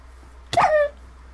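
One short, sharp bark from a dog in the Minecraft video game, a single bright yelp with a falling tone, alone against quiet background hum.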